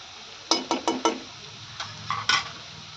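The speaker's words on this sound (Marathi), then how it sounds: "आता हे आपल्याला छान मिक्स करून घ्यायचं आहे" A spoon stirs and mixes food in a pan after amchur powder is added, giving about seven short scraping clinks in quick bursts, close and fairly soft, with no talking.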